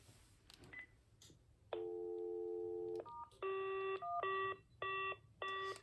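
A telephone on a test call gives a few keypad and signal tones, then a long tone, then a repeating ring pattern of steady electronic bursts with short gaps, clear and alone.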